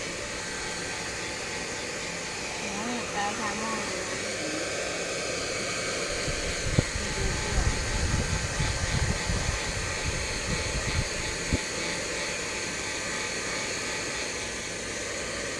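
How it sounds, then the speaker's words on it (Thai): A hair dryer blows a pet's fur dry after its bath, a loud steady whir running throughout with brief bursts of rustling and handling noise midway. "อันนี้อาบน้ำเสร็จก็เป่าขนอยู่ค่ะ"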